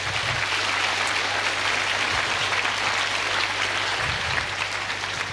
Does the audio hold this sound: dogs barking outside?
no